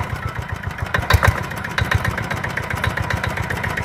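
A Japanese Yanmar Kubota GA120 engine runs steadily with a fast, even chugging beat, loud and close, holding a constant idle throughout.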